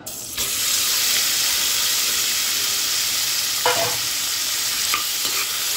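Chhana, fresh cottage cheese, frying in oil for stuffed Kashmiri aloo dum, a loud continuous sizzle with occasional scraping and clinking as a spoon stirs it through the pan.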